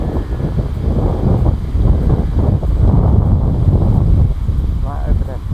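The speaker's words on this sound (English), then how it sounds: "Look how windy it is." Strong wind roars steadily into the microphone through the whole stretch outdoors at night, with someone talking loudly over the buffeting gusts.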